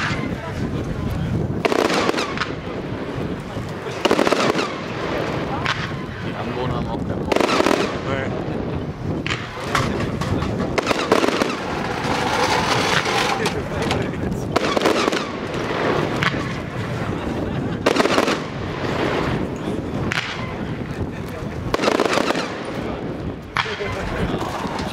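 A 100-shot 30 mm fanshape firework cake with blue pistil and waving willow effects, fired at a pyrotechnics fair, pops in a fast run of sharp bursts and crackles that keep coming steadily at fairly close range.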